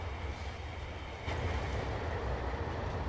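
A train rolls steadily through the Trainz Simulator 2012 railway game, with a continuous low rumble and rail noise that grows slightly louder partway through; no one speaks.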